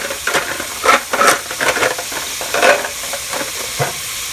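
A spoon stirs beef stew in a pot, scraping and sloshing in several uneven strokes over a soft sizzle and steady simmering hiss, close and moderately loud.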